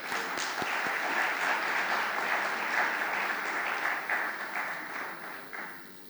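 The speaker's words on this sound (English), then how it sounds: "So could we have a round of applause for Ms. Aishat?" Sustained audience applause at an education forum panel discussion, a dense wash of many hands clapping in a hall for a panelist's introduction, steady throughout and tapering slightly at the end.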